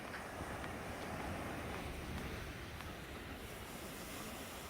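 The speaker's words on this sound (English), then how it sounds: "Mellow waves, as you can see." Mellow ocean waves at Laguna Beach make a constant, even wash of surf with light wind noise, steady and moderately distant with no clear individual breaks and no voices.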